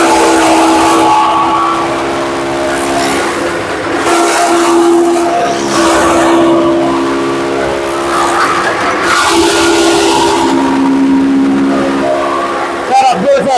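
Bahubali 3 HP double-sided chaff cutter with four rollers running, a loud steady mechanical drone with whining tonal harmonics throughout, while people talk over it.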